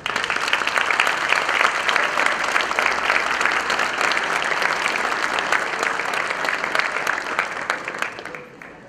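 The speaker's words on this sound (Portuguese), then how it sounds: "será aplaudido e recebido com muito carinho por todos os senhores" An audience welcomes a speaker at an evening lecture on competitiveness with dense, sustained applause, loud and even throughout before fading away at the close.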